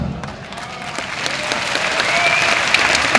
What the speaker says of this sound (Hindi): और इन लोगों की तालियों से इस बात का एहसास होता है कि आपके लिए ये आत्मा से दिल से ताली मार रहे हैं